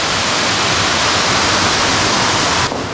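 Large waterfall at Capitólio, Minas Gerais, Brazil, roaring as a steady, loud, dense rush of falling water close by that stays unbroken throughout and cuts off sharply at the very end.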